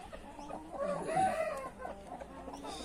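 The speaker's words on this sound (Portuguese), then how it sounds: "Tá querendo pegar a briga com a galinha, né?" A young rooster squaring up to a hen, with a burst of clucking and squawks around the middle, moderately near, amid quieter farmyard noise.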